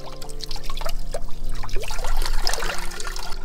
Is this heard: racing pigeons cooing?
no